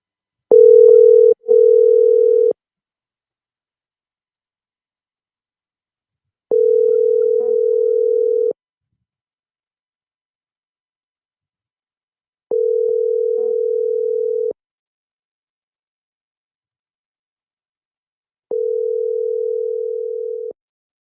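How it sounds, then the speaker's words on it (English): A phone line rings out during a call on an FM radio show: four steady ringback tones, each about two seconds long with roughly four seconds of silence between them, loud and clear with no voices over them. "Phone just ringing"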